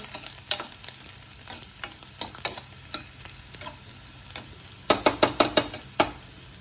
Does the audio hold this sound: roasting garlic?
yes